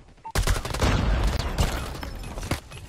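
Rapid gunfire from a first-person shooter video game plays as a loud, sustained burst of close shots after a brief quiet start.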